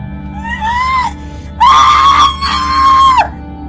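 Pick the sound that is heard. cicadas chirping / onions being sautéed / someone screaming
someone screaming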